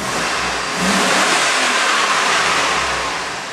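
A 2001 Chevy Tahoe LS with a 5.3L V8 and 198K miles is revved once from idle, the engine swelling into a loud, close roar that holds and then eases back down.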